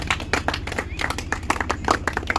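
Scattered, uneven hand clapping welcoming young visiting cricket players from West Bengal in Delhi, sharp individual claps close by, mixed with talking and a steady low hum.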